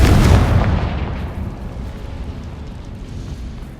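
The Confringo fire spell in Hogwarts Legacy goes off as a loud, sudden blast at the start, then a long rumbling fade.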